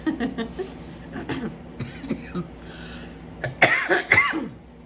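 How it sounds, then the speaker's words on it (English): A person coughs repeatedly in uneven bursts, close and fairly loud, with some throat clearing between fits and a heavy cough cluster near the end. "If I don't cough to death."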